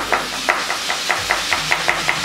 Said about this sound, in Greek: Κόβεται σε ροδέλες το κρεμμυδάκι.